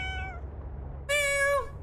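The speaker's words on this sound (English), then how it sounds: "it's a little Dreki cat loaf" A cat meows clearly, first one softer mewing call and then a louder, higher meow after a brief pause, set against a low steady hum with no talking.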